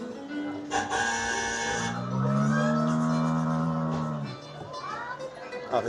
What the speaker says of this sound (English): Obviously sounds like a cow mooing.